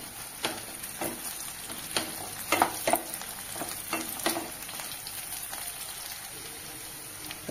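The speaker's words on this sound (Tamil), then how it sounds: "இப்போ பூண்டும் நல்லா வறுத்தாச்சுங்க." Garlic, dried chillies and shallots frying in a pan for tomato kulambu, a constant crackling sizzle broken by several spatula stirs and scrapes, close and fairly quiet.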